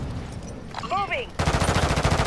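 Rapid automatic gunfire in a shooter video game, a quick burst of loud repeated shots that follows a brief electronic chirp, with voices present.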